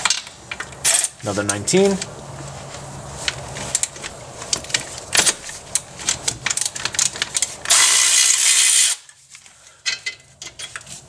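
Bolt being removed from the rear transmission mount of a 1996-2000 Honda Civic with a manual gearbox: quick ratchet clicks and metallic clinks in bursts, a short loud grinding run near the end, and a brief spoken word.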